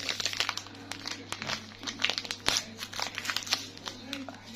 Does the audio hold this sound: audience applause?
no